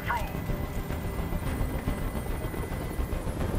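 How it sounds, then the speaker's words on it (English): Helicopter hovering in the video game Detroit: Become Human, a steady dense rotor rumble heard close and loud throughout, with voices talking over it. "I can't stand that noise anymore. Tell that helicopter to get out of here."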